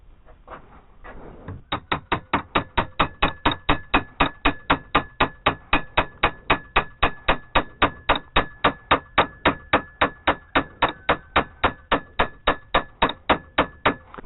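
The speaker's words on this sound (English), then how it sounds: "Yeah, you just hammer this flat." Rapid, steady hammer blows flatten a metal part during a flat tire repair on a Suzuki GN250 motorcycle, dozens of sharp, evenly spaced strikes ringing out close and loud for over twelve seconds after a brief quieter start.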